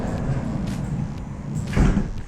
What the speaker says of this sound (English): And if I just open up the door, I'll show you that same thing again.